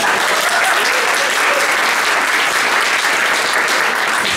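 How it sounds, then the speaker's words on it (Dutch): A poetry slam crowd in a Rotterdam reading room applauds a finalist's name being announced, loud, dense clapping from a packed room that continues steadily without a break. "Je mag klappen"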